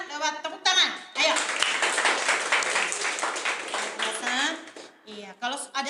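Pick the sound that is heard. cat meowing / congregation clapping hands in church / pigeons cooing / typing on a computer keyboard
congregation clapping hands in church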